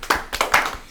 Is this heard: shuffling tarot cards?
no